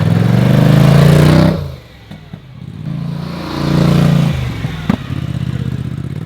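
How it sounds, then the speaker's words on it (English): A four-wheeler ATV engine drives back up a hill on a farm, a loud, close motor drone that drops off suddenly, idles low, then swells again with clattering knocks, no talking. "Good thing I got this four-wheeler, huh?"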